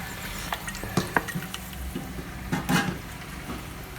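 Coconut oil pours into a cooking pot for chicken dum biryani, giving a soft, steady liquid trickle with a few small clinks and taps, close up and mostly without talk.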